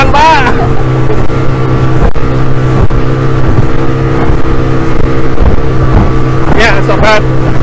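A speedboat ride on the Musi River beneath the Ampera Bridge in Palembang, a loud close engine drone with wind and choppy water, steady throughout with voices talking over it.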